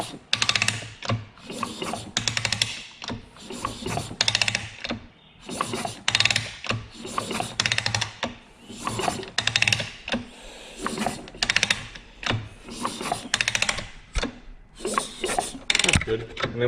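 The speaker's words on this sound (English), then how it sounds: "You can turn it over with the kicker if you want." A Chinese pit bike engine is turned over by its kick starter during a valve adjustment, repeated ratcheting mechanical strokes in a steady rhythm, close by, with people talking throughout.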